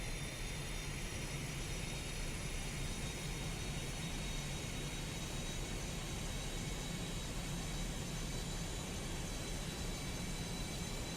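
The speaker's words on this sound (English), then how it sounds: "carefully and gradually increase the throttle to 7000 RPM" Twin jet engines of an Arado Ar-234 in the IL-2 combat flight sim roar in a steady, dense, unbroken drone as the throttle is brought up toward 7000 RPM with toe brakes engaged, no voices over it.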